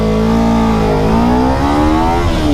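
Kawasaki Ninja 300 motorcycle engine revving steadily up through the range, the exhaust note rising and falling close by, loud and unbroken with no talk.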